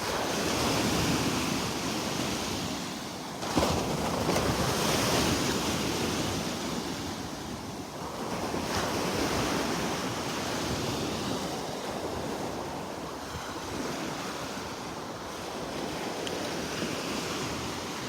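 Ocean surf rolls onto a beach in North Naples, Florida, in a continuous broad wash of breaking waves with gusts of wind buffeting the microphone and no voices.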